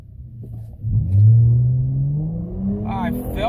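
A Dodge Challenger fitted with NGK plugs and Ripp coil packs launches into a full-throttle pull, its engine note rising steadily in a deep, loud climb from a low rumble, with a voice speaking briefly near the end.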